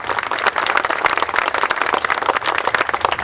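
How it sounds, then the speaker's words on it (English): A crowd applauds at an outdoor memorial dedication for fallen workers in Missouri, dense steady clapping from many hands filling the short stretch without a break. "we should give everyone a round of applause for that."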